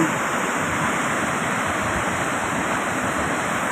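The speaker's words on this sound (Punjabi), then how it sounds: "ਉਹ ਦੇਖੋ 10 12 12 ਫੁੱਟ ਜੰਪ ਕਰ ਰਿਹਾ ਪਾਣੀ" Loud, steady roar of rushing water from a waterfall near Agartala, water dropping about 10 to 12 feet, continuous and broadband with no voices.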